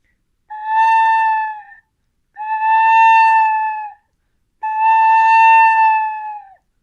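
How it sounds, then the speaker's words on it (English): A tin whistle plays with a 'twoo' breath effect, the jaw dropped to open the mouth. Three separate sustained notes at a steady pitch, each lasting over a second with short gaps between, sound close and clear with no voices. "If you allow your jaw to drop as you say twoo, you create space in your mouth that changes the pressure that you put into your whistle."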